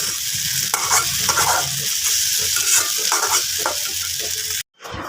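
Noodles cooking in a pan, a steady sizzle with periodic stirring scrapes, cut by a sudden brief silence near the end before the frying resumes; no speech.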